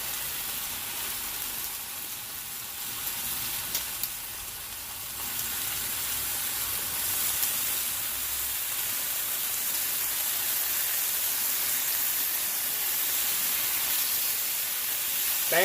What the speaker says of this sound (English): We're going to cook the bacon first.